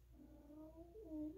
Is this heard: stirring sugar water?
no